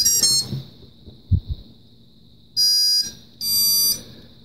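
A quadcopter motor's ESC gives its startup tones once the battery is plugged in. A clear electronic beep sounds, then two more stepped multi-tone beeps follow after a brief clunk of handling.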